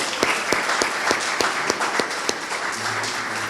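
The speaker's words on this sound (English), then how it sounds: "Let's give everybody a round of applause if we could." Audience applause at an outdoor Cape Verdean flag raising at Brockton City Hall, a steady wash of many hands clapping with sharp individual claps standing out, moderately loud and continuous throughout.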